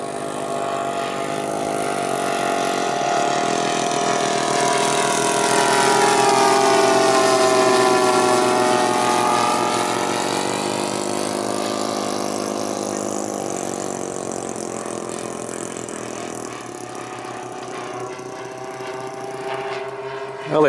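Glow engine of a radio-controlled model airplane at an R/C flying club, running slightly rich, a steady buzzing drone that swells and eases in pitch over about twenty seconds, fairly close and continuous.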